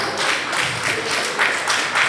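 Audience at a Nigerian Bar Association branch legal education session clapping, steady moderate applause from a room of people, continuous and fairly close.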